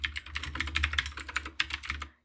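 A terminal command typed on a computer keyboard, a short close burst of quick, crisp keystrokes with brief gaps, ending abruptly in silence.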